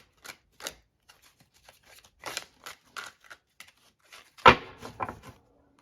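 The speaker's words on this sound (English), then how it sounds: "This is usually how I shuffle it to do a reading." Soft, close tarot card handling: a series of brief papery slides and flicks, with one sharper snap near the end, in an otherwise quiet room.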